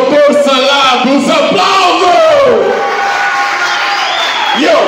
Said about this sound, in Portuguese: Eu quero aplausos para o senhor.